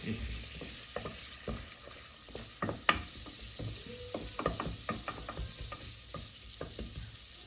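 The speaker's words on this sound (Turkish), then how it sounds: "Yağımız kızarmaya başladı. Şehriyeleri ekliyorum. Bunu biraz kavuruyoruz." Vermicelli frying in oil in a pan while being stirred for Turkish rice pilaf, a faint steady sizzle under repeated soft scraping and clinking strokes of a utensil, close by.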